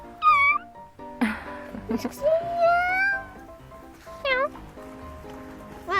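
A cat begs for fish with several loud, close, rising meows spaced across a few seconds, while people talk and laugh around it.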